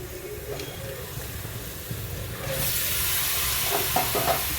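A steady frying hiss suddenly grows louder and brighter as kakrol (spiny gourd) pieces hit the hot pan, followed by light stirring clinks.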